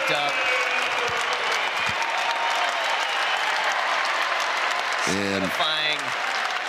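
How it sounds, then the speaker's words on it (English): A college wrestling crowd at a home Big Ten dual meet for Minnesota stands and applauds, a loud, dense, continuous roar of clapping and cheering filling the whole stretch, with a voice talking briefly over it near the end. "The crowd is on their feet. They love it."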